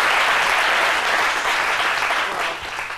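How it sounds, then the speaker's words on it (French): Studio audience applause on a French midday talk show, steady and dense clapping filling the room at full loudness from start to finish, slightly easing near the end. "ça s'applaudit."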